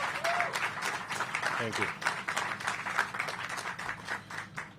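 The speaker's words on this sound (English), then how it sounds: "So everyone, just a quick round of applause" Crowd applauding the Mayor at a ribbon cutting for senior housing, a sustained ripple of clapping with a voice briefly speaking over it.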